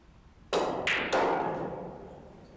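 A pool cue shot drives the 1-ball on a billiard table during a race-to-5 match: a few sharp knocks and thuds in quick succession, close and clear, with each impact ringing out briefly before fading.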